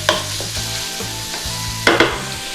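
Beef sizzles loudly in a hot pan for Thai Pad Kra Pao, a constant close frying hiss broken by a few sharp stirring scrapes, with a low steady hum beneath.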